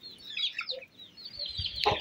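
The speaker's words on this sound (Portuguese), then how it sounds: "Eu vou mostrar para vocês a galinha que a gente deitou naquele dia e já nasceu os pintinhos." A hen with newly hatched chicks clucks softly, with high chirping peeps from the young birds, close by and continuous. A brief low thump comes near the end, and no one speaks.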